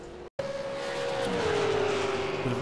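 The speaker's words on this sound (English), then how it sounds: "Shane Evans has had a spin, possibly on that first corner" A race car spinning out on the first corner at Laguna Seca in a racing video game: a tyre squeal and engine tone that slide steadily downward and hold for about two seconds, close and loud.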